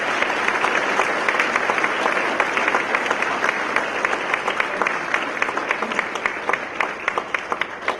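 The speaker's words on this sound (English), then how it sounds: "Please give them a round of applause." Audience applause for honors students at a college convocation, a sustained, full roomful of clapping with individual claps growing more distinct toward the end.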